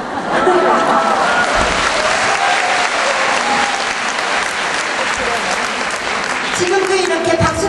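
Audience applause at an alumni choir festival, a loud, sustained wash of clapping from a large crowd filling the whole stretch, with some voices mixed in.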